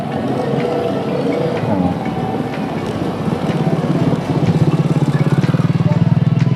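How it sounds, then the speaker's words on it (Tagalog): A motorcycle engine rumbles steadily on a rough dirt bypass road under construction, its drone growing louder and more pulsing in the second half as it draws near, with no talk over it. "Awa yung motor diri oh."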